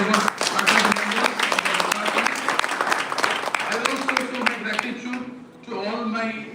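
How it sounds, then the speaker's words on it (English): An audience at a university event applauds its faculty members, sustained clapping running beneath a speaker's amplified voice, which continues over the crowd throughout. "a huge round of applause to all our revered faculty members"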